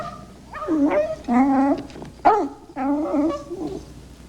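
A little chihuahua whimpers and whines nearby in four drawn-out, wavering bursts with brief pauses between them.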